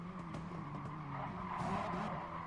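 A GT race car in the GT Sport video game brakes hard and its tyres skid, a continuous loud rasping squeal over engine roar that holds steady from start to finish.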